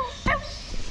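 A Cavalier King Charles Spaniel gives a single short, sharp bark up close, followed by quieter rustling and faint background noise.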